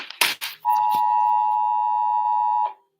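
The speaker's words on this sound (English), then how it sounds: "that's my phone." A phone alert rings out as one loud, steady electronic tone lasting about two seconds, coming after a few brief knocks and rustles, close by with no talking.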